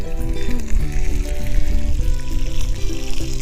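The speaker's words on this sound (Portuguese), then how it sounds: "Depois do azeite estar bem quente, vamos juntar as carnes." Meat sizzles loudly in very hot olive oil, a dense continuous crackle and hiss close by, with faint clinks of cookware and low background music underneath.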